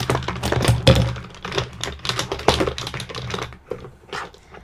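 Small hard nail polish bottles clatter and tap against each other in quick, busy bursts, close up, as they are jostled around together.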